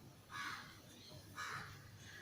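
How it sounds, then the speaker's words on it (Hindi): A crow perched on a house wall gives two distinct caws, moderately distant and faint, over a quiet indoor background. "आज मेरे घर की दीवार पर कौवा बहुत काँव काँव कर रहा है।"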